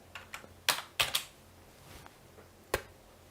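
Code is typed on a computer keyboard in a few scattered, crisp key clicks close by, including a quick cluster of taps and a final sharp stroke after a pause.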